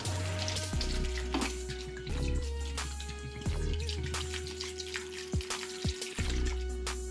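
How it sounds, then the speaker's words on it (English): Water running and splashing steadily into a pot of stuffed grape leaves, with a brief pause or two in the flow and small clinks, close and alone without talk. "we're gonna add water until it comes up above the plate."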